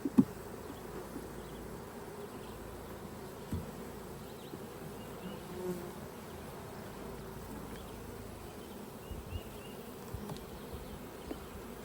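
Honey bees on a frame pulled from a nuc hive during a summer nectar flow, a soft, continuous buzzing hum with occasional louder passes from individual bees close by, no talk.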